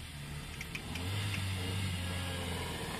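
A Renault Captur with four-wheel drive running off-road, its mid-pitched engine droning steadily nearby and rising a little in strength partway through.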